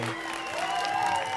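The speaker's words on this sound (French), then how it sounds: "Je demande un tonnerre d'applaudissements pour tous mes complices de ce soir" An audience applauds at a live comedy show, a steady wash of clapping from a crowd held at an even level for a moment.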